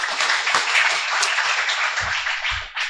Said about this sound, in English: So I'd like to give them a round of applause too.